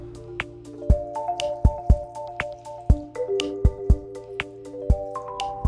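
Blue water is poured onto a small model dam made of rocks and cardboard, producing close, crisp drips, splats and wet squishes in an irregular patter, with no voices.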